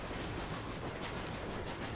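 Dense, continuous rumble of a moving train in The Escapists 2, a steady rolling roar with faint clickety-clack, close and even for the whole stretch.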